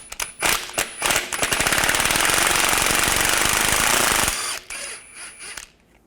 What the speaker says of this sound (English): Just use a 13mm socket. Loosen that up, take it off.